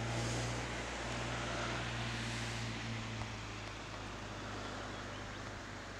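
The Wentworth Falls waterfall in a Blue Mountains national park is heard from a distance as a broad, steady rushing noise. The wash stays continuous and fairly faint throughout, with no voices.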